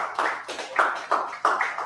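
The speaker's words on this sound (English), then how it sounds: "and you're clapping like that." An audience at a live business and leadership training event claps in short repeated bursts, with a few waves of applause rising and fading close by.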